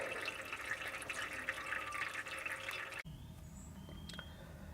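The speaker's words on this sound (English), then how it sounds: "that was mostly water in the sump, so I decided to just drain the whole lot" Old, mostly watery oil draining from the sump of a 1974 Toyota Hiace camper engine, a steady close trickling pour that cuts off abruptly, leaving faint drips and quieter liquid sounds.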